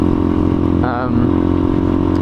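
A 125cc four-stroke motorcycle engine runs steadily, loud and close, with a brief rising whine about midway through.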